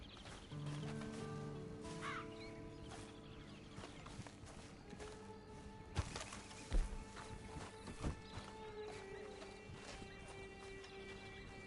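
Steady hoof clip-clop from a horse under a busy layered game soundscape with music-like tones, plus a few louder thuds near the end.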